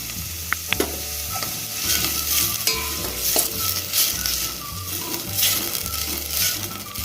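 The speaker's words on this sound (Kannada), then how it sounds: "ಸಣ್ಣ ಆನಿಯನ್ ಚೆನ್ನಾಗಿ ಫ್ರೈ ಮಾಡ್ಕೊಳ್ಬೇಕು" Onions and tomato fry in a pan with a continuous sizzle, repeated spatula stirs and a few sharp metallic taps against the pan.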